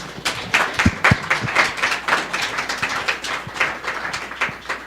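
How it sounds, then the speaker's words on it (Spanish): An audience at a meeting claps for a first-time attendee: a scattered, fairly light round of applause, with individual sharp claps standing out near the start, continuing unevenly throughout. "¿Le podemos brindar un aplauso, por favor?"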